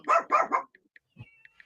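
Three quick loud barks from a dog come in a burst close by, followed by a few faint yips, clicks and a soft thump in otherwise quiet surroundings.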